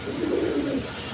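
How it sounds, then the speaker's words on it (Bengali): A pair of Masaldam pigeons gives a short, low, steady coo at close range, a single soft burst with no talking. "বন্ধুগণ এখানে এক পেয়ার মসলদম কবুতর আছে"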